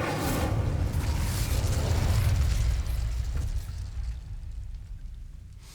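An Incendio fire spell in the video game Hogwarts Legacy bursts into a loud, broad whooshing roar of flame that rumbles steadily for a few seconds, then gradually fades out.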